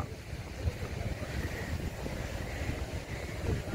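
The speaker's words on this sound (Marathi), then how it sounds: "निर्जन अशा समुद्र किनाऱ्यावरती आलोय." Waves and wind on a deserted beach near Vengurla: continuous low rumbling surf mixed with gusty wind buffeting the microphone, fairly loud and steady, with no voices.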